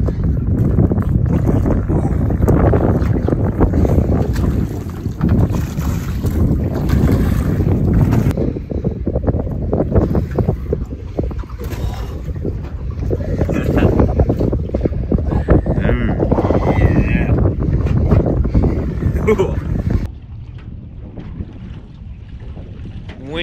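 Wind blowing hard across a fishing boat at sea during a snapper fishing trip in Shark Bay, a loud, steady roar and microphone buffeting that continues for the whole stretch and eases slightly near the end.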